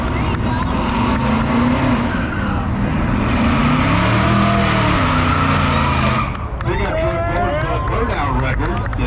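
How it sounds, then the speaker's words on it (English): At a drag strip, a drag racing car spins its tires, its loud engine roaring with rising pitch alongside tire noise. An announcer then talks as the engine sound drops away. "He spins the tires."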